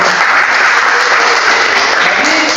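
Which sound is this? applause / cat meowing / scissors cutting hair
applause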